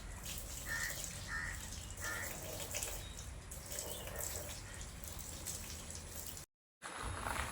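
Water splashes and trickles steadily while mud is rinsed off a freshly laid floor, a continuous close wash with brief spattering bursts and a short break near the end.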